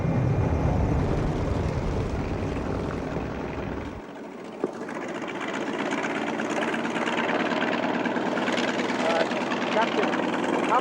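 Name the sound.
T-28 bomber aircraft flying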